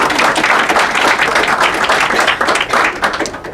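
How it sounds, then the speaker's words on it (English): A crowd at a disability community celebration claps steadily and loudly in honor of a reduced DD waiver backlog, a continuous wash of many hands lasting the whole stretch without pause. "please clap for that"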